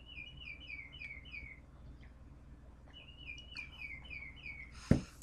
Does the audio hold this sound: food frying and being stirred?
no